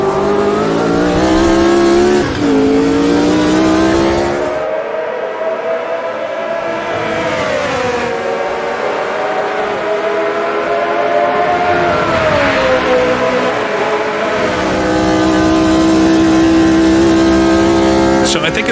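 A 1970-era race car laps Spa in the Automobilista 2 racing game, its engine snarling loud and close as it revs, brakes hard with rapid downshifts and climbs again through the gears.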